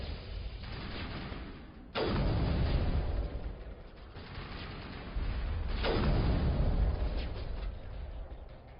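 Heavy sniper rifle shots in the Mass Effect shooter game hit as loud booming blasts, two main reports a few seconds apart, each followed by a long rumbling tail over steady battle noise.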